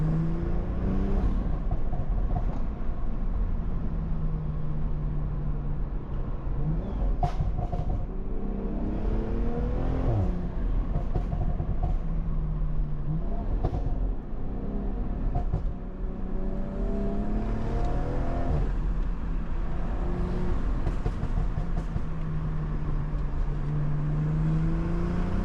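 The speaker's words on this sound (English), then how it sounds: "Roll the windows down for y'all boys so you can hear the car." A 500 hp BMW M340i engine accelerates through several gear pulls with rising and falling revs, loud and close from inside the car with the windows down.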